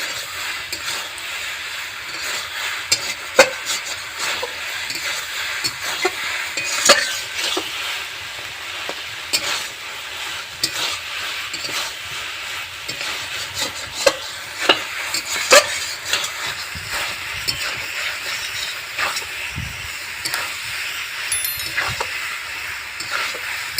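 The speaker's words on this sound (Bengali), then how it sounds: "মাছের মাথা দিয়ে খুব ভালোভাবে আমি কষিয়ে নেব।" Fish head sautéing in a pan with green chili and cumin seeds, a steady close sizzle and hiss with scattered stirring scrapes and clicks throughout, no voices.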